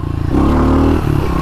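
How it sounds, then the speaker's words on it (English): A motorcycle engine revs hard and climbs in pitch as the rider pulls a third-gear wheelie, loud and close, with a steady droning tone and some clatter. "Third gear wheelie all the way to my driveway."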